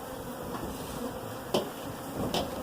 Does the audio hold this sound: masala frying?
no